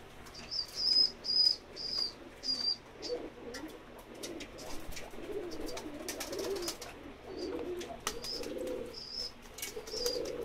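Domestic pigeons, including a Shirazi-type pet pigeon, coo softly and repeatedly close by, with a few higher chirps and light rustling mixed in; no one speaks.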